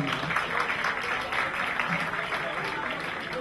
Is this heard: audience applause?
yes